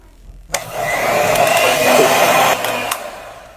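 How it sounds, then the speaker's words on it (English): An electric mixer whirs loudly as it beats whipped cream with cocoa powder, switching on abruptly after a short quiet start and running steadily with a high motor whine before easing slightly near the end. "Beat well with the mixer to fully incorporate the cocoa powder."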